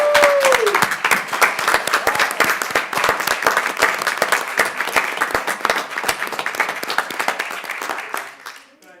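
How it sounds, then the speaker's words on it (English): A town council meeting audience gives a steady round of applause for a girls' varsity tennis championship team, dense clapping continuing for about eight seconds before trailing off into quiet. "Let's give them a nice round of applause."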